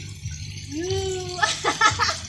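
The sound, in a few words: water poured over a child's head while bathing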